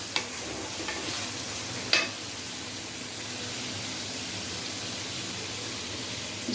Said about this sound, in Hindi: तो अब बिस्मिल्लाहिर्रहमानिर्रहीम पढ़ के तो यखनी हम इसमें डाल देते हैं।